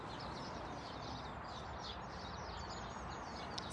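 Small birds chirp and twitter faintly outdoors in a short run of calls over a steady wash of background noise, with no one talking.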